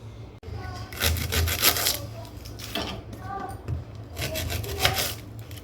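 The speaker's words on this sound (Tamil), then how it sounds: "நம்ம அடுத்தது வெங்காயம் கட் பண்ணிக்கலாம்" A knife slicing onion on a board for sambar makes close, rhythmic rasping and scraping strokes in bursts.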